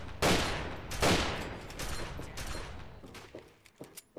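Gunfire in the video game Fallout 3: two loud, sharp bursts of shots ring out early with a long echoing decay, then a scatter of quicker, quieter shots closes the stretch.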